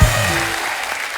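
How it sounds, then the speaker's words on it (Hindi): Studio audience on a comedy talk show clapping for arriving guests, a short, loud burst of applause that opens sharply and stays dense, with faint background chatter. "जोरदार तालियां हमारे मेहमानों के लिए।"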